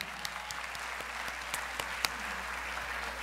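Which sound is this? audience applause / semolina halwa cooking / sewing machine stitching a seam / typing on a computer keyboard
audience applause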